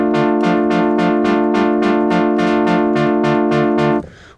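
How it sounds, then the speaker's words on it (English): A Moog Apollo synthesizer holds a chord while a left-hand bass note repeats about a dozen times, each one retriggering the filter envelope for a steady pulsing, wah-like attack, loud and close before the sound cuts off. "what you're hearing is the envelope going to the filter being re-triggered with each note I play"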